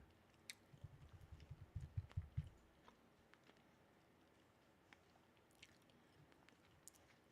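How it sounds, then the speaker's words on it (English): Someone munching and crunching food close to the mic, a quick burst of soft bites and chews in the first couple of seconds, then only faint scattered clicks in a quiet room. "Sorry if y'all hear me munching crunching."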